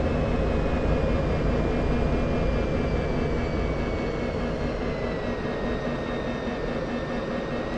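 An F-16's jet engine in the DCS flight simulator roars steadily throughout a slow, high angle-of-attack pass at 500 feet, with a broad, loud rushing drone and a thin whine sliding slightly lower.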